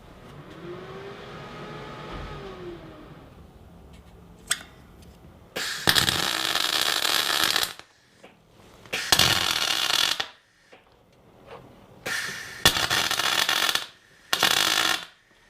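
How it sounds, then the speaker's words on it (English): Tack welding a steel center unibody stiffener into a Jeep XJ through weld-through primer: a few loud, harsh crackling bursts of one to two seconds each, separated by short quiet gaps, with softer rustling beforehand. "so we can actually tack weld that in"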